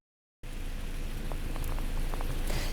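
Rain falling outdoors before an evening football game, a sudden, steady hiss of drops on surfaces with a few faint passing taps, no one speaking.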